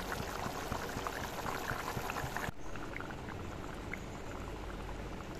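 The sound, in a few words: fish curry boiling in a wok with the lid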